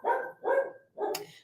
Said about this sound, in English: our dog, and he's barking right now, so you can hear him in the background